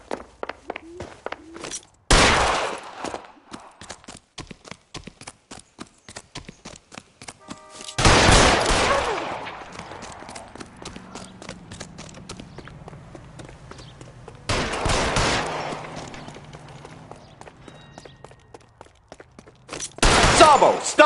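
Gunshots ring out in LA Noire, four loud, sharp blasts spaced several seconds apart, each with a short echoing tail, with footsteps and quieter ambient sound between them.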